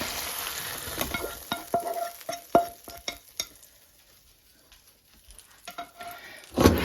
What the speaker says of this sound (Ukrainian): Беремо каструльку, висипаємо сюди м'ясо з цибулею.